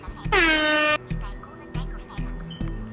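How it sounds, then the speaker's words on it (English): One loud, blaring video game air horn blast lasts about half a second, followed by scattered thumps and faint voices in the background. "Oh, look it, I have an air horn,"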